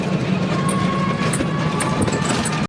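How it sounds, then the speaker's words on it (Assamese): A train passing close by, a loud continuous rumble and rattle of wagons with faint high squeals of wheels, cut off abruptly at the end. "পূৰা দেৰি হৈ আছে নে আকৌ ট্ৰেইন আহি গ'ল।"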